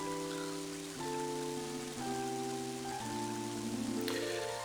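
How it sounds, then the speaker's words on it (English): Rain pours steadily in the video game Mother 3, a continuous soft hiss of falling water running under sustained, shifting musical tones throughout. "the rain is coming down"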